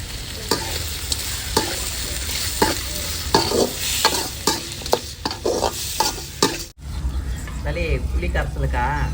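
Turmeric powder being stirred into tomato masala frying in a pan, with steady sizzling and repeated scraping strokes of a spoon, close and clear, with a pause near the end.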